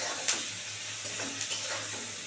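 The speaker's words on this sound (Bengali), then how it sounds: "সুন্দর করে পেঁয়াজটা লাল করে ভাজা হোক বন্ধুরা" Sliced onions fry in hot oil in a pan for a spicy bata fish curry, giving a brief, even sizzle close by with a couple of small pops and clicks.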